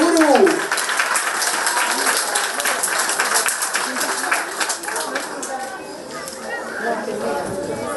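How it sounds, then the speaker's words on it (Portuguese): An audience at a neighbourhood centre's anniversary celebration applauds for a minister, a sustained patter of clapping that gradually thins out over eight seconds, with voices talking over it. "Outro aplauso."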